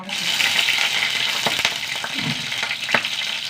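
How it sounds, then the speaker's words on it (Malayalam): Mustard seeds spluttering and popping in hot oil while tempering a dal dish, a constant loud sizzle with scattered sharp crackles and pops, no talking. "കുറച്ച് കടുകിട്ട് കൊടുക്കുക പൊട്ടട്ടെ പൊട്ടട്ടെ"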